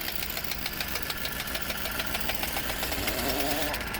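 A Mercedes-Benz Actros truck with a V-type engine runs steadily at idle, giving a continuous close-up mechanical knock and hum with no one speaking.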